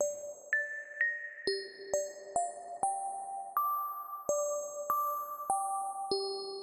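A bright, bell-like music box preset from an Arturia Pigments synthesizer plays a slow melody of plucked metallic tones, each note ringing and decaying, with no voices.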